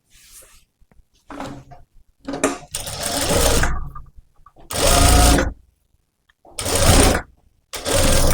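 A sewing machine stitches blouse pieces in several separate runs of steady whirring, each lasting about a second or two, with quiet gaps between.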